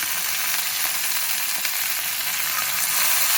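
Green chillies and onions sizzle in a hot pan, a steady, close crackling hiss of frying with no talk.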